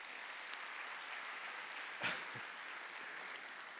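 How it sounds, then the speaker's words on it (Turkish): An audience at a Turkish folk dance competition claps steadily and continuously, a dense wash of applause at moderate distance with one brief louder swell partway through. "paylaşalım ve tekrar bir alkışlayalım"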